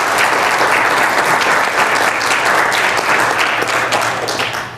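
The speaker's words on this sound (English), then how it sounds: "should we give them a round of applause or something?" A room at a county commission meeting bursts into a loud, sustained round of applause that holds steady and tapers slightly at the end.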